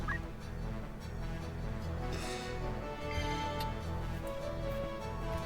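Chicken cry from the video game Final Fantasy Tactics, a loud, clucking fowl call that rises out of a dense, steady bed of game music and noise.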